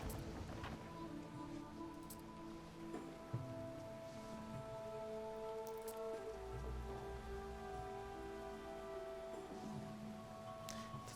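Steady rain patters on surfaces in the Roman city-building video game ANNO 117: Pax Romana, a continuous soft downpour layered under tonal background music, with no voices.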